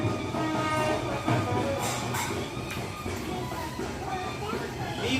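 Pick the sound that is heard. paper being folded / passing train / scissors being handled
passing train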